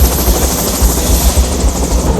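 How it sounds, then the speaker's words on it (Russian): Helicopter in flight in Brazil with a passenger aboard, a steady loud rotor and engine drone with rhythmic low blade thumping throughout, no talk. "сейчас полечу на вертолете"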